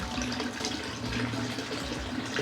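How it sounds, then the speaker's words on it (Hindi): Water pouring steadily over a newborn baby during a bath, a continuous close splashing stream with no pauses and no talk. "चलो डालो पानी"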